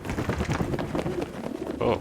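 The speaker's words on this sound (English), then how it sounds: "Those are some loud pigeons." Loud pigeons coo in the Prey video game, a layered murmur of calls running through the whole stretch. A brief exclamation is heard over it.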